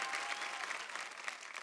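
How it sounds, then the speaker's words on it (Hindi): A TV talent-show audience claps for young child performers, producing steady, dense applause that holds at an even level throughout, with no voices over it. "जोरदार तालियां हो जाए तो छोटे छोटे भाइयों के लिए।"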